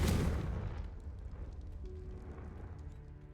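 A Confringo fire spell in a wizard game bursts with a deep boom at the start and then decays into a low rumbling tail that fades over a few seconds.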